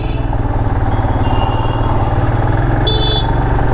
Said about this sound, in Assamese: totally smooth bike